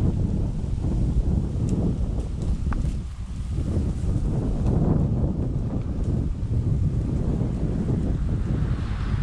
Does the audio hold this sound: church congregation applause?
no